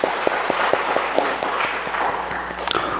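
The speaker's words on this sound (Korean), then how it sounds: "영광의 박수를 주님께 돌리십시다" A church congregation applauds during an Easter Sunday service, giving a dense, steady wash of clapping with a few sharper individual claps standing out, continuous for about three seconds.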